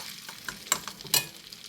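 Butter bubbling and boiling in a pan while being made into homemade ghee, a soft continuous sizzle with a couple of brief louder pops and stirring clinks, fairly quiet with no voices.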